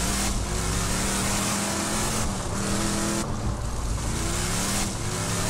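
A vehicle engine in Borderlands 2 drones loud and steady throughout, its pitch shifting slightly as the car draws near, with no talking over it.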